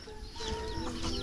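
Chickens cluck softly nearby for a brief moment after eating scattered corn. The sound is faint and steady, with a few quick, rising notes.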